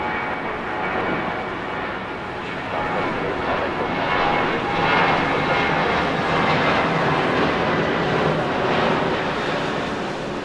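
A jet airliner roars on takeoff from runway 6 right at LAX in Los Angeles, a broad steady engine rumble swelling slightly and holding strong, heard from a distance with no talk over it.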